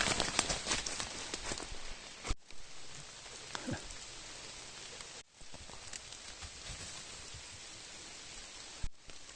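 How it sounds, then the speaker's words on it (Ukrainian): Steady, even rain patter fills a Carpathian forest scene with a broadband hiss, broken by a few brief dropouts and soft thumps; no one speaks. "Дощик паде."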